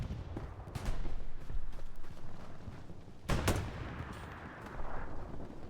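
Gunfire in the World War II shooter Hell Let Loose on Utah Beach, scattered rifle and machine-gun shots both near and distant, with one loud close shot standing out amid continuous battlefield noise.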